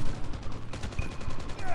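Gunfire in the mobile shooter Call of Duty: Mobile during sniper trickshot play, a few sharp shots mixed into dense game noise and an excited voice talking over it.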